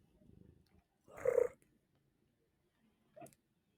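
A cat named Cindy gives a soft purr, then a short, louder rolling trill up close, followed after a pause by a brief second chirp in a quiet room.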